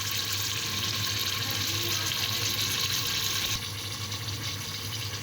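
Water is poured steadily from a glass into a cooking pot holding peas, potatoes and carrots. The pour is a continuous nearby rush that eases slightly toward the end.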